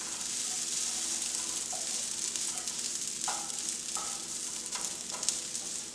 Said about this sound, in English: 1/4 cup of Daiya cheese that I'm going to add. And we're going to stir that in.